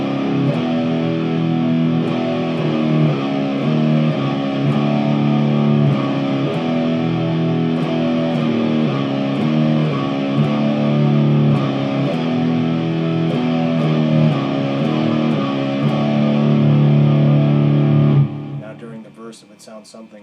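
Distorted electric guitar plays a riff at a slow tempo, thick and sustained up close, before the playing stops and a voice begins.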